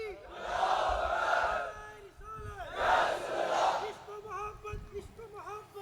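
A large crowd at a Sunni religious gathering chanting slogans in unison, two loud swelling call-and-response bursts separated by pauses, with a voice carrying between them.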